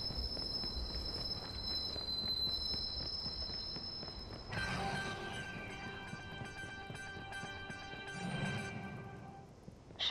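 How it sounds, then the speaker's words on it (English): A train pulls into a station in the Chicago setting of the video game Watch Dogs, with a steady low rumble that shifts midway into squealing, ringing brake tones as the cars slow, then a brief louder clunk at the end. "Southbound train arriving shortly."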